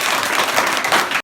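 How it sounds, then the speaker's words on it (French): A local crowd at an outdoor gathering lets out cheers and cries of joy, a dense, loud wash of voices that runs steadily and then cuts off abruptly. "La population du coin, contente des autres, pousse les cris de joie"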